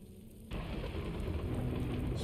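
Heavy thunderstorm with steady rain in the video game The Last of Us, a dense constant wash of rainfall that swells in abruptly and holds loud and even, with no voices.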